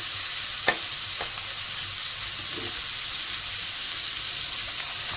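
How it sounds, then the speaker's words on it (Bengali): Capsicum fries in butter in a pan with a steady, even sizzle and hiss, broken by a few faint scrapes of stirring, and no voices. "আর ক্যাপসিকামটা দিয়ে দিয়েছে, দিয়ে একটু নাড়াচাড়া করছে"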